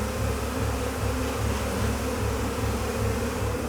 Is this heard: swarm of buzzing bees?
yes